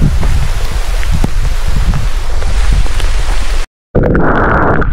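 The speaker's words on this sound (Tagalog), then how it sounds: "Inabutan na kami ng malakas na ulan." Heavy rain falls on a mountain cross-country trail in Kibungan, making a close, continuous broadband roar with gusty rumble and wind buffeting on the microphone, then cutting out briefly near the end before resuming.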